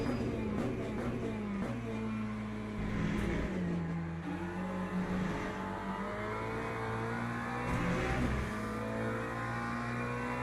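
A race car engine in the Le Mans Ultimate sim racing game, revving hard up to the rev limiter, a loud, sustained tonal whine that climbs and holds with small fluctuations.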